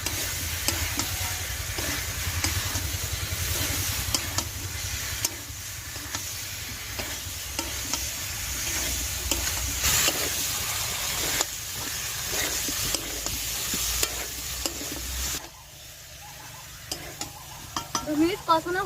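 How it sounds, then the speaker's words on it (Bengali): Jackfruit being stir-fried in a pan with fried potatoes, a steady sizzle under continual scraping and clinking of a spatula against the pan, close up and with no talking. "এবার ভেজে রাখা আলুটা দিয়ে দেব। আরো 2 মিনিট কষিয়ে নেব।"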